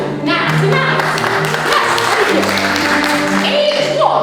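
Studio or theatre audience applauding at a comedy show's prize segment, a steady wash of clapping throughout, with a voice speaking over the crowd.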